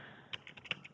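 Keystrokes on a computer keyboard, a handful of light, irregular clicks typed close by in a quiet room with no talking.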